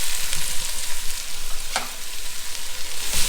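Sliced leeks, about three stalks, sizzle steadily in a pan over medium heat while a wooden spoon scrapes and stirs them in a couple of distinct strokes, close and fairly loud.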